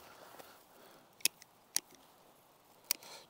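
Scissors snip through foraged weaving material for a random-weave basket: three sharp, separate cuts close by, spaced apart against a quiet background.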